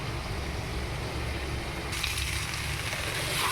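Cauliflower and spices fry slowly in a pan for a quick cauliflower-potato curry, giving a steady close sizzle that brightens and grows slightly louder partway through, with no voices.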